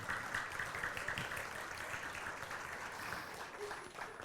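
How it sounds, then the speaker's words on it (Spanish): A church congregation applauds during a talk, giving a steady, moderately quiet patter of many hands that holds evenly throughout. "denle un aplauso, por favor"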